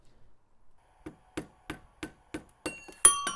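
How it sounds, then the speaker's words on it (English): A hammer driving a screwdriver to knock a stuck metal plate off a warped table: a series of about seven sharp, evenly spaced taps that grow louder, ending in a bright metallic clank. "I ended up using a hammer and a screwdriver to knock it off."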